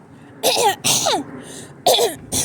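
A person clears their throat several times in short rough bursts, close and fairly loud, with brief pauses between.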